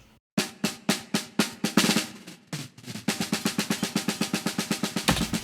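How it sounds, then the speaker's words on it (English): Snare drum track from a metal drum recording session, struck in sharp isolated hits at first, then a fast, steady run of evenly spaced strokes, loud and close with no talking. "Then we have another snare track"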